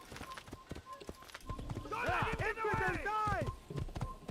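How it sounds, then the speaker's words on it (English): Horse hooves clip-clopping at a gallop in the game Assassin's Creed, a rapid rhythmic run mixed with a whinny-like call and game sounds, with speech-like voices over it. "if I sprint a horse at gallop speed"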